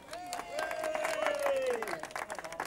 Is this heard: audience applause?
yes